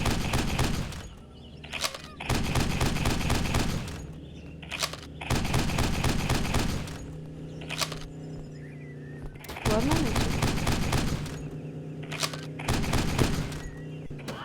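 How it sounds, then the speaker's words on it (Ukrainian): Several loud bursts of rapid video-game gunfire aimed at a car crackle in clusters, separated by short quieter gaps. "Кратенько і стріляємо по машині."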